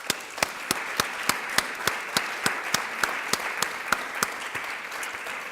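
An audience at a congressional briefing gives a round of applause, with sharp, evenly spaced claps standing out above the crowd's steady clapping for several seconds.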